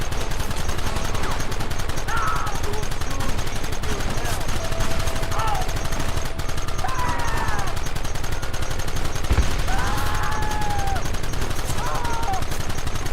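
Gunfire in the Western video game Red Dead Redemption rings out as scattered shots over a dense, continuous battle din, with voices calling out over the fighting throughout.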